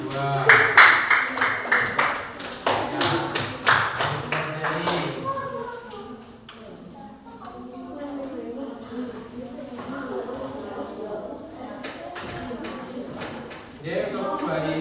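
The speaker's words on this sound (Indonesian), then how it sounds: "Beri tepuk tangan untuk nomor 2." Applause in a primary school mathematics classroom, a group of children clapping in quick bursts near the microphone, fading after a few seconds into a teacher talking, with more claps near the end.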